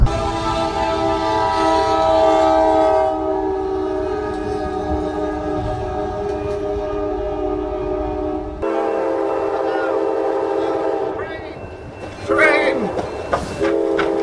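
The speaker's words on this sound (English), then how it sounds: "Train!" A train passes close by with a long, loud blaring horn over the steady rumble of the cars, and a startled voice cries out near the end.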